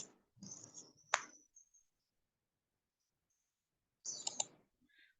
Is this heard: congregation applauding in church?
no